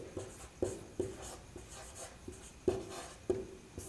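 A pen or chalk tapping and scratching out numbers of a factor tree for 120 by hand, with a series of sharp, evenly spaced strokes, close and fairly quiet.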